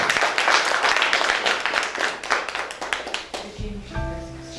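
Audience applause at the close of an interview with Dr. J.M. Mulet, a brisk burst of many hands clapping that thins out after about three seconds and gives way to a short electronic musical jingle.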